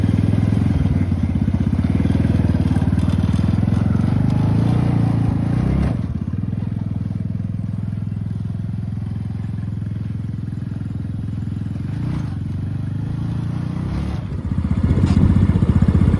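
A Coolster 125cc mini Jeep engine runs steadily in first gear, a loud close drone with a rise in revs near the end, while people talk over it.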